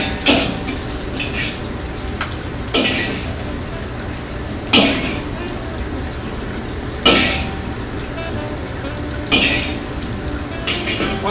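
Black rice and lap cheong stir-fried in a wok, with a steady sizzle running throughout and five sharp metallic scrapes and clanks of the spatula against the pan, spaced roughly every two seconds.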